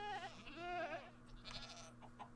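A goat bleats in the video game Minecraft, one wavering, nasal cry followed by fainter, breathy bleats, heard alone without talk.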